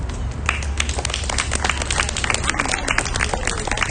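An audience at an outdoor book launch claps and applauds for the next performer, a dense, close burst of hand claps lasting the whole moment with a few faint shouts mixed in.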